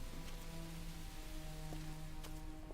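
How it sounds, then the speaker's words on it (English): Soft, steady rain falls in the video game Suikoden 4, a quiet continuous hiss layered under faint sustained musical tones, with no voices. "And it looks like it started raining."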